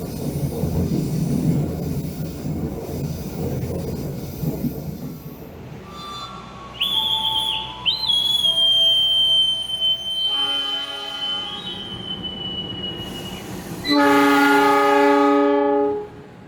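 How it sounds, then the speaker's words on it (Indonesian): A Pangrango New Generation passenger train rumbles along on its run, then sounds its horn in long, loud tonal blasts, with a sustained, harmonically rich horn call near the end. "selamat datang di kereta api Pangrango New Generation"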